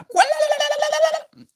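A person's voice imitates a guinea fowl call with one harsh, nasal, pulsing cry lasting about a second, close and fairly loud, followed by a short quieter sound.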